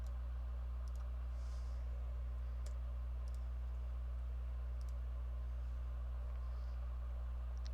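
Soft mouse double-clicks at a computer desk during map editing, a few sharp paired taps spaced seconds apart over a constant low hum, with no talking.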